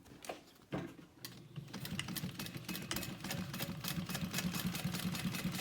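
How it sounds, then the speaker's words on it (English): A sewing machine runs a 3/8 inch seam on a handbag, starting with a few clicks and a thump, then settling into steady, close rhythmic stitching with no voice. "Sewing a 3/8 inch seam allowance."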